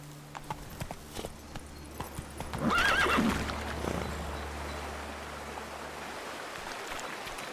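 Hooves clip-clop as a horse gets moving in The Witcher 3, followed by a whinny and a louder rush of galloping that settles into a steady rumble over faint background ambience.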